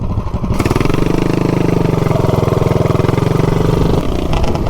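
A 420cc minibike engine with a torque converter and upgraded sprocket accelerates, its loud close-up exhaust pulsing rapidly and rising smoothly in pitch for several seconds before easing off.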